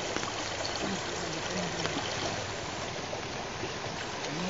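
Steady water pouring and trickling over a dog during a bath, a continuous splashing wash that holds at one level from start to finish, with no clear voices.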